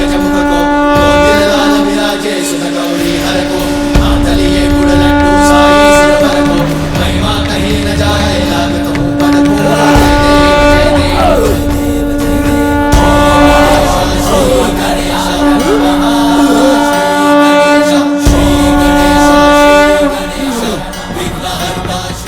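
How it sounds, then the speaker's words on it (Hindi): A loud, sustained conch-like horn blast with a steady droning tone, rising over dense, swelling background noise that continues for a long stretch. "नारायण के शंख की ध्वनि है"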